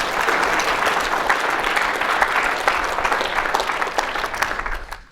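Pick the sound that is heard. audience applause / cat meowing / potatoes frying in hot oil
audience applause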